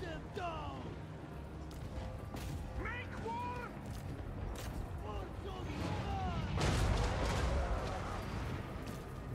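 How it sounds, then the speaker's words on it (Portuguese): Booming cannon shots from Total War: Warhammer III fire repeatedly amid a dense, noisy soundscape, with chirpy effects and a louder burst of blasts partway through. "Deixa os canhões fazer o trabalho deles."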